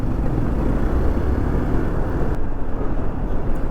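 A Hero Xpulse 200 4V motorcycle's 200cc engine pulling steadily in high gear on the road, a constant low drone mixed with wind rush and no shifts or talking.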